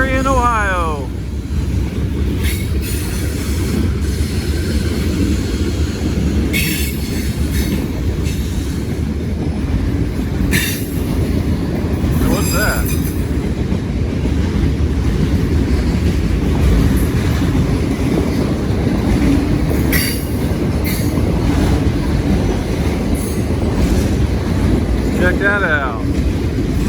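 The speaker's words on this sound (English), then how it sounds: "Now this is a monster train." A nearly three-mile-long CSX freight train rolls over railroad diamonds in Marion, Ohio, a loud continuous rumble of wheels with repeated sharp pounding clanks and some wind buffeting across the whole stretch.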